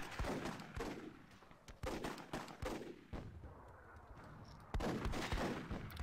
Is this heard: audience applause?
no